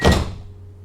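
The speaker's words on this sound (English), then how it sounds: "Press the B button to shut that door." A tram door in the Tramsim Vienna simulator shuts with a single close, solid thunk that fades quickly into a low hum.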